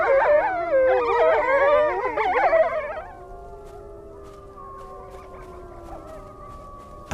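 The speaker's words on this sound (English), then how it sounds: "They can hear each other howl up to 10 miles away." Gray wolves howling together, several wavering overlapping voices rising and falling loudly for a few seconds, then fading to a single long, steady, quieter howl that trails on alone.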